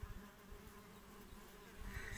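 Wild bees buzzing at an apiary, a faint, steady close-up hum of many insects with no voices.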